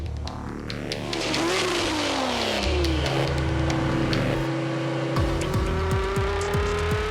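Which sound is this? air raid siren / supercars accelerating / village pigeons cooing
supercars accelerating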